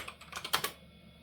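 Keystrokes on a computer keyboard of a 386 PC typing a DOS DIR command, about six quick close clicks in a short burst, then quiet.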